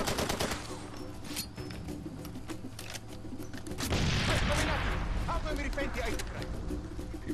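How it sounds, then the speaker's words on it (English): Enemy soldiers fire rapidly in the video game Far Cry 2, with dense crackling bursts and a heavier explosive roar partway through, while a player talks over it. "There's clearly still men shooting at me"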